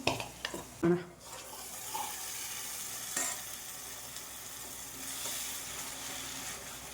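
Kashmiri red chilli powder and turmeric masala for a paneer curry sizzles steadily in a pan, with a few sharp stirring clatters near the start and continuous frying hiss throughout.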